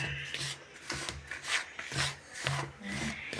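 Ground rice and coconut mixed with dry ginger powder by hand, soft repeated scraping and rubbing strokes in a steady rhythm, close and fairly quiet with no talking.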